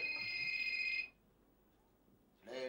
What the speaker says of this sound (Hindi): ठेकेदार का फोन आ गया।